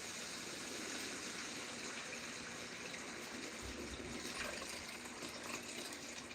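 Homemade stock made from scrap vegetables being poured for soup, a steady rushing liquid stream that runs unbroken for several seconds, close by and fairly quiet, with no voices.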